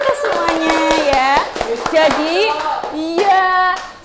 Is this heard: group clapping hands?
yes